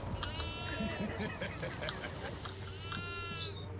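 A goat bleats in the horror video game Devour, two drawn-out wavering cries at the start and end, loud over a dense low rumble of game ambience with faint voices underneath.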